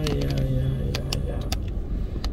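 A car drives slowly through storm-damaged streets in Jūrmala, past downed power lines, with a steady low engine and road rumble from inside the cabin and a few sharp clicks and knocks over it.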